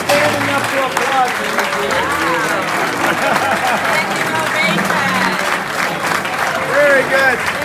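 An audience applauds a chef named Zuzu, many hands clapping in a dense, steady roar with voices and cheers mixed in throughout.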